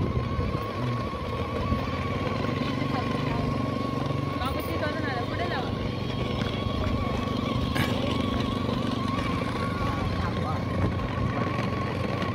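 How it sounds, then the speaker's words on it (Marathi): A motorcycle ridden along a beach with a child aboard, its engine droning steadily close by for the whole stretch, with a voice talking over it. "बाईक राईड ती तुम्हाला दाखवते बघा."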